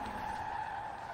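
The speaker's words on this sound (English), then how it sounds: "I'm gonna see if I can drift tap some stuff here" A car drifts in Forza Horizon 4, its tires giving a loud, sustained skid squeal that holds steady without a break and sits over a low engine rumble.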